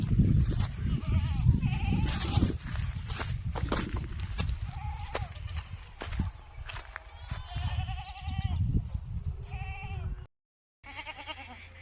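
Goats bleat repeatedly, several nearby calls rising over a busy outdoor background with rustling and shuffling, a brief dropout near the end.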